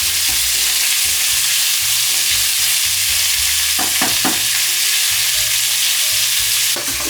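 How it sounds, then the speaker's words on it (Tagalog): Pork belly sizzles steadily in a hot pan for salt adobo, a loud continuous frying hiss with a few brief scraping stirs partway through and near the end. "lagay nyo na yung pork belly. Yun dapat yung sound na maririnig nyo, no? Yung sizzling sound."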